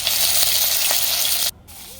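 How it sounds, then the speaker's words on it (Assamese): Magur fish fry in hot oil in a kadai with a loud, dense sizzle. The sizzle cuts off abruptly after about a second and a half and leaves a quieter residual hiss. "মাছখিনি চেপি দি ভাজি ল'ম।"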